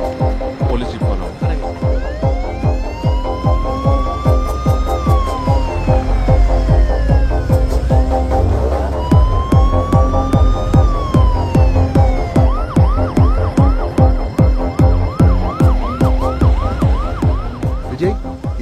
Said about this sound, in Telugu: Police jeep follow.